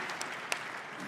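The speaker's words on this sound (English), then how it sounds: "deserve a round of applause" A brief patter of applause from a panel audience at a global leaders' discussion, faint and thin with a few distinct claps standing out over about a second.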